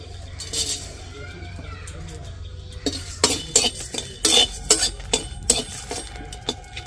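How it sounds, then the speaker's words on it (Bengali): Whole coriander seeds and three dried chillies are dry-roasted in an unoiled pan. The quiet start gives way to a burst of clinking, rattling stirs against the metal at close range. "কিছু গোটা ধনে আর শুকনো লঙ্কা নিয়েছি 3টে, এগুলো আমি শুকনো খোলায় ভেজে নেব"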